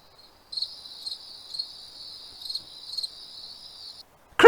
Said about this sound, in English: Crickets! What's going on?